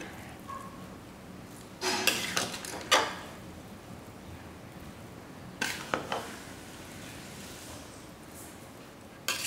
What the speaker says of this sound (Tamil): நெய் வந்து இந்த சட்னி கரண்டியில் ஒரு கரண்டி அளவுக்கு எடுத்து ஃபைனலாக இப்படி போட்டுட்டு கலந்து விடுவோம்